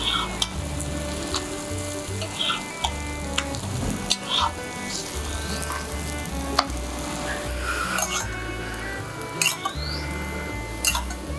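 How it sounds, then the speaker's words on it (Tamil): Parotta flatbread frying in a pan on a stove over low heat for street-style chilli parotta, a steady close sizzle with scattered clicks and scrapes of a utensil turning it, no talk. "அடுப்பை ஸ்லோவில் வச்சு நல்லா வேக வைக்கணும்."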